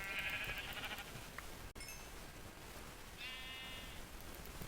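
Sheep in the video game Minecraft bleat in two bursts, one at the start and another a few seconds later, close and clear over a steady noisy game background.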